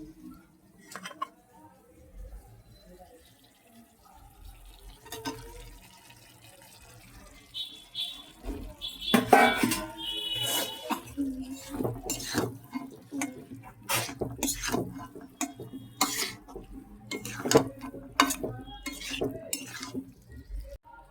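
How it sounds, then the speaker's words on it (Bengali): A kitchen tap runs water while a mustard paste bowl is washed, with clattering dish and utensil knocks, splashes and scraping through the middle and later part, close by amid general kitchen noise. "এইবার সর্ষের বাটিটা ধুয়ে ভালো করে জলটা দিয়ে দেবো।"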